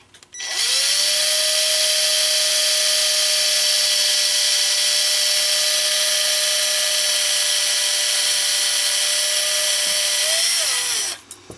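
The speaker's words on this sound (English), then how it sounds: "pre-drill those with a smaller reamer" A small reamer pre-drills holes during repair of a Regula 25 camera. A steady, loud, high-pitched whine runs for about ten seconds, then winds down, with no talking.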